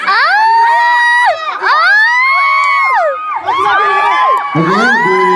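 An audience at a neighbourhood RT 05 women's competition cheers for the contestants with loud, continuous high-pitched shouting and whooping voices, sustained for several seconds with brief dips.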